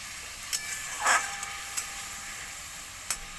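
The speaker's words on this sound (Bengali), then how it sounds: "দেখো আমি এবার একটু পটলগুলো দিয়ে দেবো।" Pointed gourd pieces dropped into a hot pan for a mango-and-gourd curry, giving a short burst of sizzle and stirring among a few faint clinks, close and fairly quiet with no talk.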